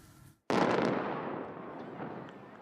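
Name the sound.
simulated missile impact explosion with 7.5 kg of dynamite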